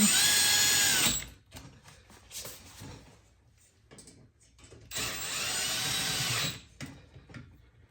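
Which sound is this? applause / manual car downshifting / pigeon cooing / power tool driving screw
power tool driving screw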